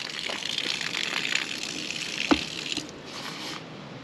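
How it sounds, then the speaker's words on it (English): Water gushing from the nozzle of a 275-gallon IBC tote in a first-flush rain catch system: a steady splashing rush with a brief knock midway, then easing slightly toward a softer flow. "So I released the water to the nozzle. And now I have water."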